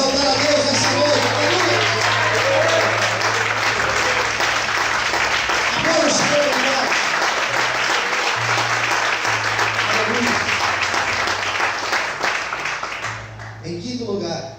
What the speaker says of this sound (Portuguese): Será que você pode aplaudir e exaltar a Deus nessa noite?